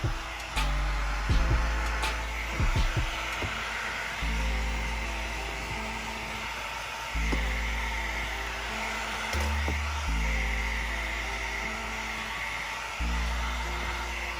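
A heat gun or hair dryer blows hot air onto a vinyl wrap in a steady droning whoosh, its pitch stepping as the tool shifts, with occasional light taps and handling clicks.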